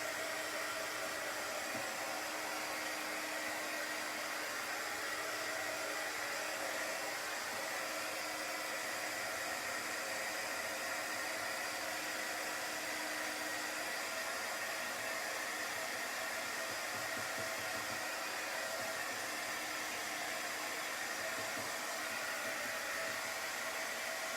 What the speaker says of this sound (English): I'm going to try to dry it enough to chalk on it